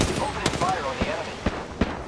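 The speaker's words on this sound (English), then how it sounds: "Opening fire on the enemy." Bursts of video game gunfire crack out in quick succession, close and loud, with a voice talking over the shots.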